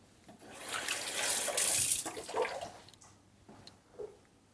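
Tap water runs into a kitchen sink while hands are washed, a splashing rush that swells and then fades into faint drips and trickles, close by with no talking.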